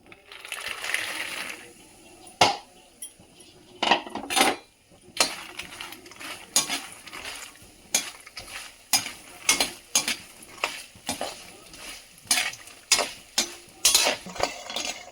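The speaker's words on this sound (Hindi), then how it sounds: "तो फ्रेंड्स मेरे मखाने भी भुन गए हैं" Fox nuts (makhana) roasting in a pan, with repeated sharp scraping and clattering strokes of a utensil against the pan at an irregular rhythm, close and fairly loud, no talk.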